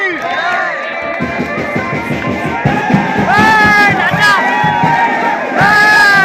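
A crowd of young men roars and chants together at a Dahi Handi festival held by a blind Govinda troupe, loud close group shouting and cheering that swells and surges throughout.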